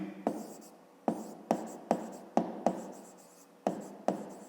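Numbers written by hand during a fifth-grade math exercise: about nine crisp pen or chalk strokes in short uneven taps, close and clear against a quiet background, with no speech.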